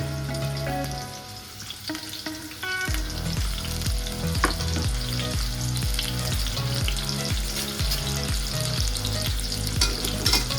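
Onion and green chilli fry loudly in hot oil, with a continuous close sizzle and the repeated clatter of stirring against the pan.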